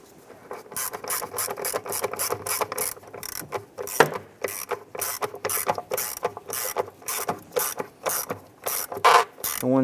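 A hand ratchet snugs down bolts on a 2002-2008 Dodge RAM engine during spark plug wire work, giving rapid rhythmic clicking bursts in repeated strokes, close up and fairly loud, with no voices.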